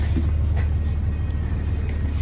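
A bus engine drones steadily from inside the moving vehicle, with a constant low rumble of motor and road noise and faint rattles, loud and continuous throughout.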